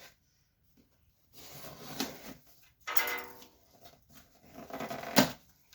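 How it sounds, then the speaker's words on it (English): Steak knife slicing through the tape and cardboard of a shipping box, three separate bursts of close scraping and tearing with quiet gaps between them, no talk. "we're going to open this box with a knife instead"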